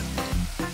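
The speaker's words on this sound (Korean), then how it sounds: "고구마에 기름을 넉넉히 두르고 센 불에 튀기듯이 볶습니다" Sweet potatoes stir-fried in plenty of oil over high heat, a close continuous sizzle and crackle of frying throughout the short stretch.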